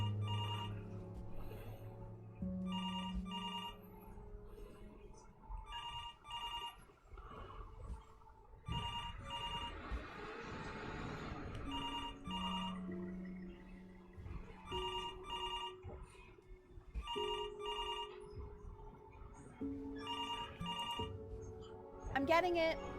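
Telephone ringing in the video game Before Your Eyes, a repeating electronic ring in regular bursts over a soft musical background, with a short pause midway, moderately loud and steady throughout.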